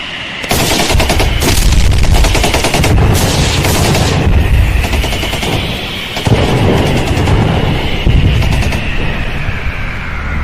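A battle sound effect for a radio drama about Indian soldiers: dense, loud rapid machine-gun bursts with booming blasts, continuous for about ten seconds, with a high whining tone running underneath and no voices.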